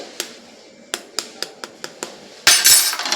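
An egg being cracked and beaten for a sandwich breakfast: seven or so crisp, separate taps against a hard edge, then a sudden louder rush of scraping noise to the end.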